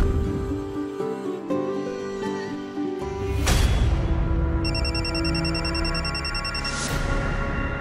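A phone ringtone chimes repeatedly in a bright electronic pattern, loud and close, following a short musical passage in a Marathi TV serial.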